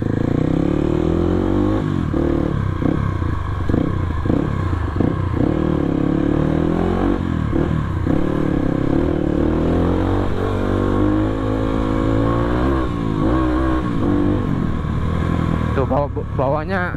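A dirt bike fitted with a local aftermarket exhaust revs repeatedly up close, with deep, full-bodied bursts and a steady engine drone throughout, while someone talks over it.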